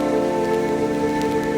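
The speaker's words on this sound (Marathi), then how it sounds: "खूप भारी वाटतं आज पाऊस पडतोय." Steady, dense rain falls through the whole stretch, an even close patter with no voices over it, during the first rain of June in a countryside jungle setting.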